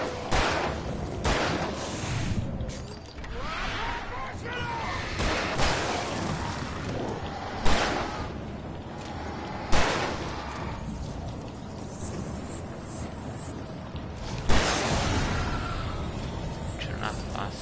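Gunfire in Alan Wake Remastered: several sharp, loud shots burst out at irregular intervals over a dense, busy game backdrop, while people talk throughout.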